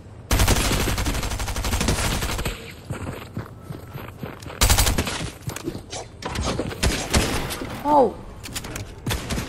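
Rapid gunfire bursts crackle in a Fortnite Chapter 3 match during Winterfest, long automatic volleys broken by pauses, with footsteps, thuds and a brief spoken exclamation mixed in.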